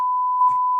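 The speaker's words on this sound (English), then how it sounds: "We'll get it beeped out." A single steady censor beep, a pure electronic tone held loud and unbroken for under a second over a spoken name, with faint traces of voice bleeding through partway.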